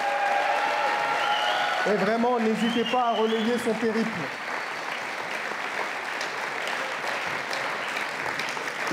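Applause from the crowd at a public meeting in La Courneuve runs steadily under someone speaking into a microphone, the dense clapping continuing evenly after his words end.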